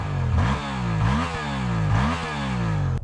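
A Suzuki GSX-8S motorcycle revving through its exhaust, close and loud, with three or four rising blips of the throttle that fall back to a steady idle rumble between them.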